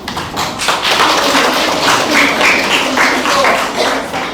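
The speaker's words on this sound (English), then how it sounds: "Let's clap for her." An audience claps for a woman at a local program, a loud, close, continuous wash of hand clapping lasting about four seconds.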